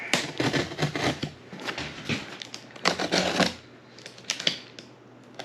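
A blade slices and rips through packing tape on a cardboard box holding a spindle sander, making repeated scratchy tearing and rustling strokes at close range, with no talking.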